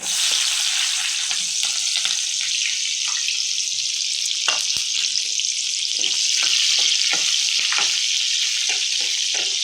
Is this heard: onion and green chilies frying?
yes